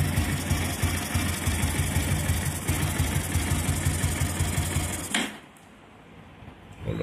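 A motorcycle engine idles steadily with a ticking, air-leak-like noise from the cylinder head, running loud and close until it suddenly quiets near the end.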